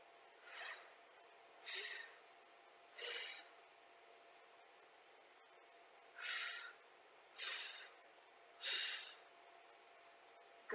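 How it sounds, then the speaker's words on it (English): A person breathes during a Pilates exercise, six quiet breaths in a slow, steady rhythm, each a soft airy puff separated by near silence. "Now you're just going to hear me breathe."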